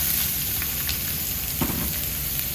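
Onions hit a hot pot for Kalua turkey chow mein, a steady soft sizzle and frying hiss running throughout, with a faint clink or stir near the middle; fairly quiet, no talking.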